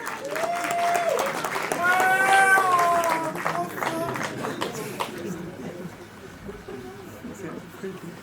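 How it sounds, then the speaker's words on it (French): Applause and cheering at a lively gathering, with voices shouting and whooping over the clapping before the crowd noise fades. "Tonnerre d'applaudissements."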